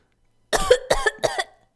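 A voice acts out three quick, harsh coughs in a row, close and clear against silence.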